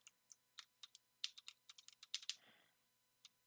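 Brisk typing on a computer keyboard, a quick run of sharp clicks with uneven rhythm and a brief rustling scrape near the end, close and clear with no talk.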